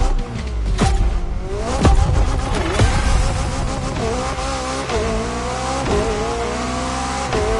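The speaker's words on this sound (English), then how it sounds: "McLaren, with the most exclusive McLaren there is, the Elva." A McLaren Elva roadster in The Crew Motorfest racing game, its engine revving and shifting through gears over tire squeal, with a loud, continuous drone that swells and dips as the car accelerates, heard without voices.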